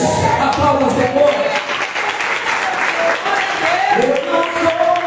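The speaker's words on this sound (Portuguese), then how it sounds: "Aplauda o Senhor." A church congregation applauds loudly and continuously, a thick wash of clapping with voices and cheers rising through it throughout.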